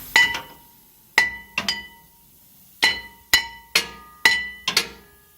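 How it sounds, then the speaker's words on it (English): Hammer strikes on a brake rotor of a 2013 Nissan Titan during rear brake replacement: eight sharp metallic clanks with ringing overtones, some in quick pairs, close and loud with no talking. "Let's take this hammer, give it a little whack."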